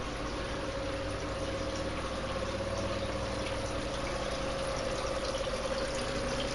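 Water running steadily through a basement aquaponics setup, pouring from an outlet back into a floating raft bed, with a constant hum of air pumps feeding oxygen to plant roots, even and continuous throughout.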